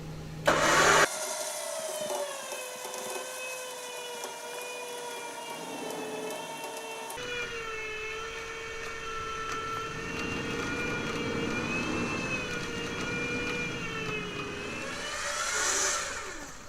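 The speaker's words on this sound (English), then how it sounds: "Winching!" Electric winch whining steadily as it hauls a stuck 4x4 vehicle with an extension strap off-road, a sustained droning motor tone with shifting pitch that runs loud and close for most of the stretch after an abrupt start.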